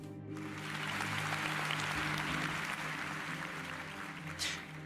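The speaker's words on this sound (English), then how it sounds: "Applause filled the Hall of Truth." Applause rising in the Hall of Truth in the video game Snowbreak, a sustained wash of clapping that swells and holds over a low background hum.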